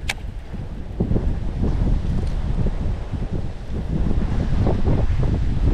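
Strong wind roars and buffets across an open, windy shoreline while out bass fishing, a steady loud rush with gusty swells and no one speaking.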